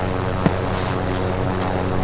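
Propeller airplane droning steadily in Call of Duty Warzone at night, a continuous engine hum with one brief sharp click near the start and no talk over it.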